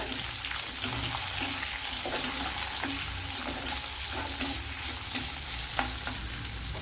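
A medium-sized onion fries in a pan of hot oil while semiya upma is being made. A continuous loud sizzle carries on throughout, with regular stirring scrapes and clicks punctuating the hiss.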